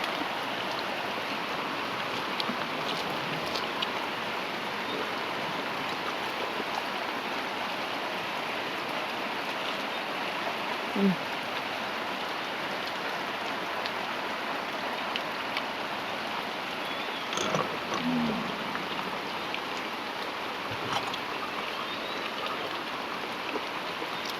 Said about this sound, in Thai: แต่ว่าฝนมา